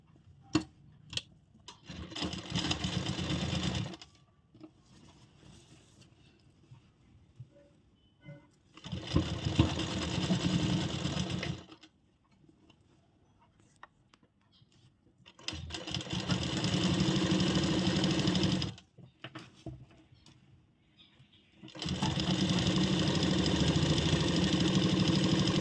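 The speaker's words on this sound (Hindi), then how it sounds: "अब इधर भी हम सिलाई लगाएंगे।" An electric sewing machine stitches kurti fabric in four separate bursts of steady whirring, each several seconds long, with quiet gaps of fabric handling and small clicks between them, close by.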